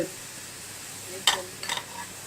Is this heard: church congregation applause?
no